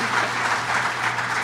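Audience applause at an ESAT fourth-anniversary event, a steady wash of many hands clapping close and fairly loud throughout, with no voices on top.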